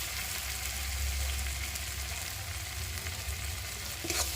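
Spice masala of salt, turmeric and chili powder frying in mustard oil for a tilapia mustard curry, a dense, even sizzle close up with a brief stir scrape near the end.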